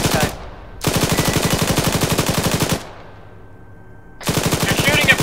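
Bursts of machine gun fire in the Arma 3 video game: two long rapid strings of loud, close shots separated by a short lull, then another burst starting after a quieter gap.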